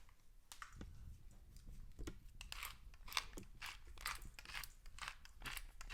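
A pepper mill cracks fresh peppercorns in a kitchen, producing a series of quiet, crunchy grinding bursts in an irregular rhythm, faint and close with no talking.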